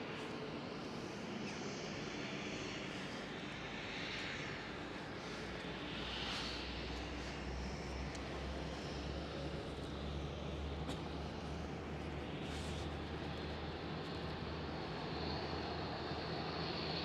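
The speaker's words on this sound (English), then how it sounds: "Right there, EasyJet landing." An EasyJet airliner landing at Schiphol airport, heard as a distant, steady low roar of jet engines with broadband rumble that swells slightly midway, persistent throughout and fairly faint.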